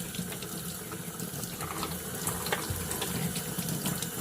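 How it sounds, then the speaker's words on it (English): Tap water runs steadily through a filter being rinsed clean, a close, continuous splashing hiss with slight fluctuations and no talk. "the best way to clean this really is to just run some water through it"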